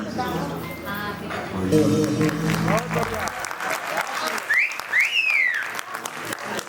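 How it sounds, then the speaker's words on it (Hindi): A stage show audience claps loudly as a live singer is about to begin, the applause mixed with music and voices in the first half, then thinning into scattered clapping with a couple of rising whistles near the end. "तो जोरदार तालियां और गीत शुरू करते हैं राकेश जी।"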